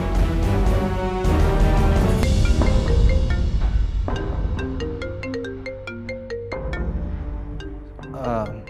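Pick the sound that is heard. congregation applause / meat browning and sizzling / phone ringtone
phone ringtone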